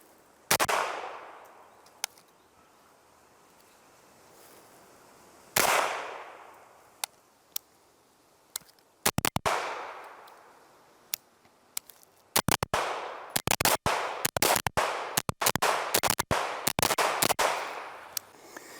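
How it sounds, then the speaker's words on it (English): Gunshots from a Sig Sauer MPX, starting with a few widely spaced sharp reports with ringing decay, then a rapid cluster of loud shots fired in quick succession toward the end, with no talking. "It's time to start shooting."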